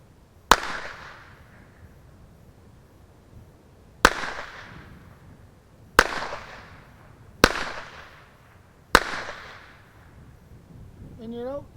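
Antique Hopkins & Allen Bulldog revolver firing five single loud cracks, each spaced one to three seconds apart with a short ringing decay, and a brief voice at the end.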